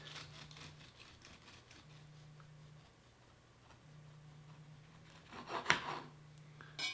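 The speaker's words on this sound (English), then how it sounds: "Grab my bread knife and we'll give it a slice." A bread knife saws through a loaf of homemade Nutella bread in soft, rasping strokes over a steady low hum, building to a louder crunchy cut near the end.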